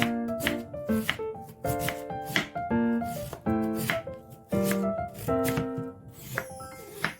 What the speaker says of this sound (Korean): 무의 양끝을 자르고 반을 자르고 먹기 좋은 크기로 썰어줍니다.